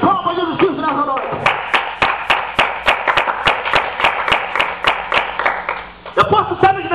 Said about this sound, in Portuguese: Dá uma salva de palmas de Jesus Cristo nessa noite.